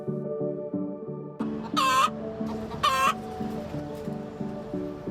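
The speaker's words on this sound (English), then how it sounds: "A hen clucks loudly, drowning out the sounds of people nearby." A hen clucks repeatedly nearby, with two loud, sharp squawking calls standing out over a steady background of rhythmic clucking.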